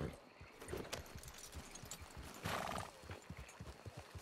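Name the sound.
horse hooves and whinny in a video game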